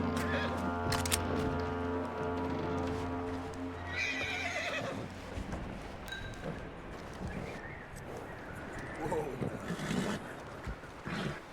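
A horse in the video game Red Dead Redemption 2 whinnies loudly over hoof clip-clops and in-game ambience, followed by scattered rustling and movement sounds, with no clear talk.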